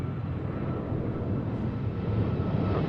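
Airliner engines roaring on the runway at Seattle-Tacoma airport, a steady broadband jet rumble sustained throughout, moderately loud and continuous with no speech.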